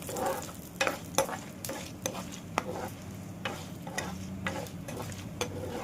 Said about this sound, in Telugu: మిరపకాయలు వేసుకుని మిరపకాయలు కూడా వేయించేసుకోవాలి.